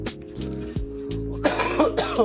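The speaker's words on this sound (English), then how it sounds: "excuse me, I'm going to cough" A cough sounds close to the mic over a steady low hum, with a few harsh throat-clearing bursts following in the second half.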